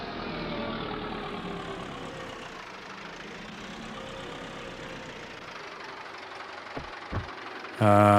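A tractor engine runs at a steady idle on a farm, a moderate low mechanical drone with a faint knocking texture, followed by a couple of brief knocks and a louder burst at the end.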